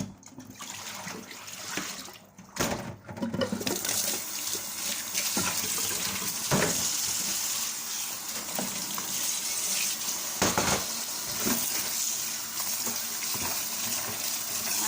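Hot tap water runs steadily into a sink for the whole stretch while spinach is washed, a continuous splashing gush with occasional clatters and knocks of things being rinsed.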